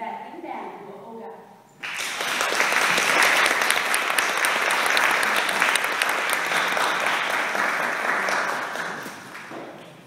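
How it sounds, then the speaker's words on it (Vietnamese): Concert audience breaking into loud, sustained applause after a quiet moment, a dense close wash of clapping that holds steady for several seconds before slowly thinning. "Xin quý vị một tràng pháo tay"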